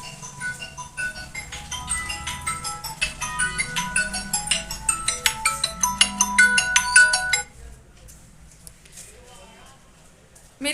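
A husband's mobile phone rings with an incoming call early in the morning, playing a bright, repeating melodic ringtone for about seven seconds before it stops, with a voice talking faintly underneath.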